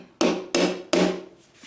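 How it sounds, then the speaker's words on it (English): A wooden piece tapped into a snug pre-drilled hole in a wooden steam bending box, three sharp close knocks about a third of a second apart, then two fainter light taps. "so it needs to be tapped in"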